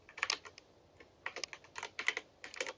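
Computer keyboard keys clatter in irregular bursts of quick taps with short pauses between, close and fairly quiet, during a game stream.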